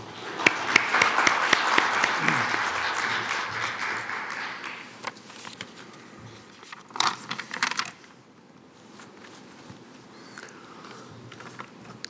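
Audience applause welcoming the chairperson at the opening ceremony of an international economic forum, steady clapping for several seconds that fades out, followed by quieter room sounds and a few scattered taps.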